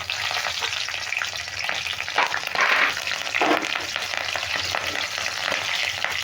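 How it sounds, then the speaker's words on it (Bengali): Green and red chillies sizzle and spit in hot oil, a dense continuous frying hiss with scattered crackles and pops that flare briefly as the pieces settle, close and alone. "লঙ্কা ফেলে দিলে চিটপিট চিটপিট করছে"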